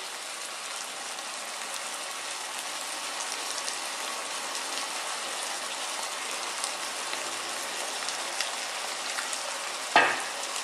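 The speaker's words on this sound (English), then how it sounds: "we're just going to cook this now for about 2 more minutes, stirring all the time" Chicken and broccoli frying in a pan with oyster sauce, a steady close sizzle with scraping stir strokes running throughout, ending with one sharp knock of the utensil against the pan.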